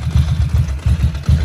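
A Ducati Monster 900 fitted with MIVV exhausts idles low, its loud, close, lumpy exhaust beat thumping in an uneven rhythm.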